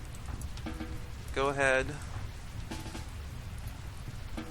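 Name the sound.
rain in the video game Rimworld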